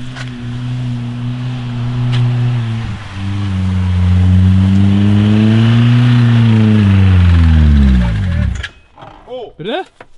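A car engine run on ketchup instead of motor oil, revving hard at full throttle with a strained, wavering drone that rises, then sags and dies abruptly as the engine seizes, leaving brief voices afterward.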